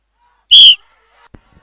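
A single short, shrill whistle blast starts a mud ploughing race in Lanja taluka, Maharashtra, loud and close, followed by near silence with a couple of faint knocks.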